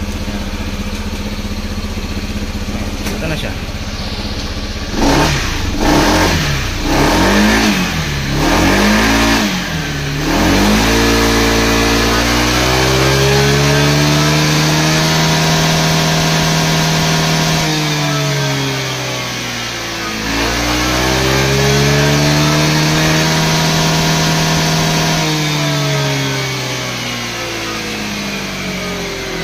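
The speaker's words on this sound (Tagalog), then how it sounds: "Start na natin yung motor." A Honda PCX160 scooter engine running on a dyno, loud and close, with a few quick throttle blips after starting, then long sweeping revs that climb and fall twice over a steady idle. A brief spoken remark is heard.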